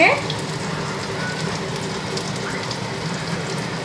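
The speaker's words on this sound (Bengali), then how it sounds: "একটু জিরে ফোড়ন দিয়ে, তেজপাতা দিয়ে, পেঁয়াজ রসুন দিয়ে মশলাটাকে ভালো করে ভেজে নিতে হবে।" Cumin, bay leaf, onion and garlic frying in hot oil give a steady, close crackling sizzle that holds evenly throughout, with no voices over it.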